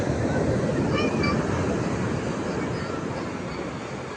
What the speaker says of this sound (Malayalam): തിരമാല അതിൻ്റെ ശക്തി കുറഞ്ഞതിന് ശേഷമാണ് വെള്ളം കടലടുക്കുന്നത് നല്ല കടലടിയുണ്ട്